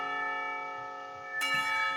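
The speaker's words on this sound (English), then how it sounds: "The lunch bell sounds" A school lunch bell chimes in the Katawa Shoujo visual novel, a steady sustained bell tone with rich harmonics that swells with a fresh, louder strike partway through, heard alone with no voices.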